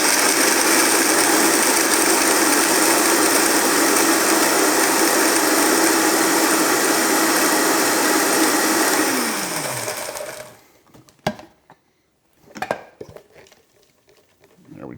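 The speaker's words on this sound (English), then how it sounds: "Throw it into our blender." An electric blender crushes ice for a bitter tequila drink, running as a loud, steady high-pitched whir for about ten seconds. The motor then winds down and stops, followed by a few faint clinks and knocks.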